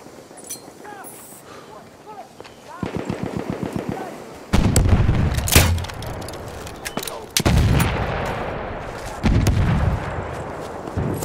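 Battlefield 1 combat brings rapid bursts of rifle and machine-gun fire, then heavy booming blasts including a grenade explosion, repeated in loud waves while soldiers shout over the din.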